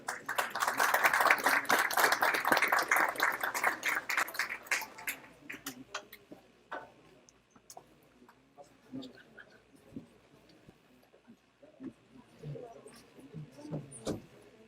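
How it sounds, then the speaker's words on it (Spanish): Audience at an Amazon journalism and climate change summit opening ceremony gives warm applause that swells for several seconds, then thins into scattered claps, with murmuring and a voice afterward. "recibirlo con un caluroso aplauso"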